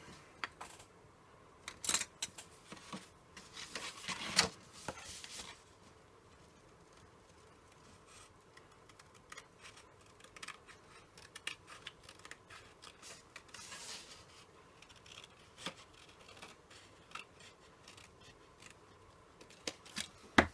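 Scissors snip steadily around a traced circle, cutting it free with a string of faint, crisp clicks and short bursts, close by and quiet, with no talking.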